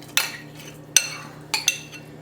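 Drained sago pearls (sabudana, tapioca pearls) being added to milk in a pot, three or four sharp metallic clinks of spoon against pot, close and distinct.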